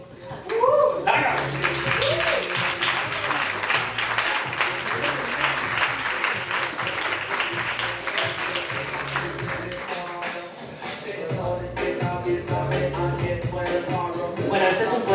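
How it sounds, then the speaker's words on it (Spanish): A poetry slam audience claps loudly and steadily throughout, with music and voices underneath that briefly dip near the end before the applause swells again. "Pido un fuerte aplauso para esta matanza"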